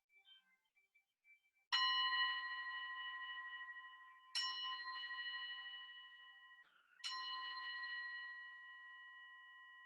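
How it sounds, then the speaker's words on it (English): Three separate strikes of a resonant bell during a guided mindfulness moment in an online class, each bright ring sustaining and slowly fading before the next strike, clear and alone in near silence. "focus on the sound of the bell until you can hear it no longer"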